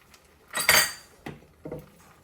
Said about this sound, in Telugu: పిండిని కొంచెం ఒకసారి ఇలా కలిపేసుకొని ఒక గరిటె పిండి తీసుకోవాలండి